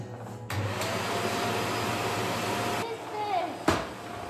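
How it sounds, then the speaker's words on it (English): A vacuum cleaner hoovers during a springtime home cleaning session, its steady, close, full roar starting abruptly and running for a couple of seconds before cutting off, followed by quieter room sound and a short bump. "Now I'm going to quickly hoover."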